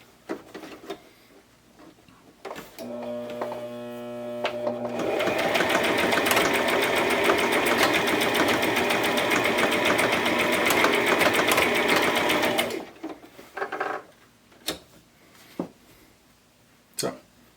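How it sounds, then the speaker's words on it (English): A Brother sewing machine runs a zigzag stitch in one steady, loud mechanical burst lasting several seconds. Quieter handling clicks and thumps come before and after it, with a short tonal beep near the start. "Got another zigzag stitch with a little lock stitching at the end there."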